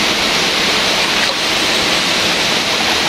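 Water rushes steadily through a small creek, a dense, unbroken close-up wash of flowing noise with no pauses and no voices.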